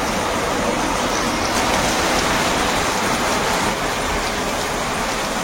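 Heavy rain pours steadily during a storm in the Sundarbans at night, a dense, continuous hiss close by with no voices.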